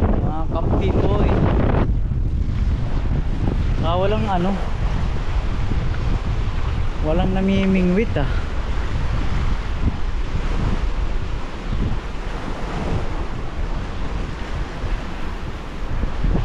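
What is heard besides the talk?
strong waves and wind at Weymouth Beach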